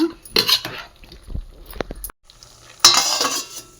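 A spoon scrapes and clinks against a pan while jackfruit curry is stirred over a wood-fired stove, with light sizzling, two busy bursts of stirring separated by a brief near-silent pause.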